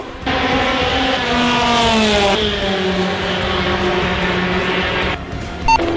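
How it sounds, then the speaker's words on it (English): A race car engine running rough on only two cylinders drones loudly and steadily for several seconds, its pitch sagging slightly, then cuts out abruptly near the end. "The car was only running on 2 cylinders."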